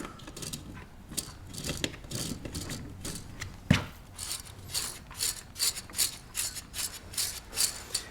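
A magazine tube plug is threaded onto a Benelli Ethos semi-auto shotgun, giving a run of soft, close metallic scrapes and ratcheting clicks with one sharper knock midway, no talking.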